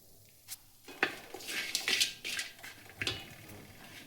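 Metal utensils scrape and clink against a pan as roasted ginger and turmeric root pieces are lifted out. Several short, quiet clatters are scattered across the few seconds, with no voices.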